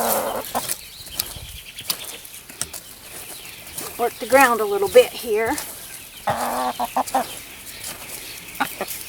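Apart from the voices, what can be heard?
chickens clucking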